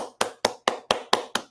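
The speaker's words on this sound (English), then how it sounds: "we're going to clap our hands a few times" A person claps their hands seven times in a steady, even rhythm, each clap sharp, close and clear, with silence between.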